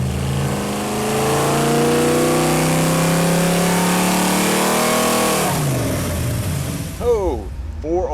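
A Chevy 454 big-block engine runs on a dyno during break-in, a loud steady rumbling drone that holds and then drops off sharply, with a voice talking over it near the end.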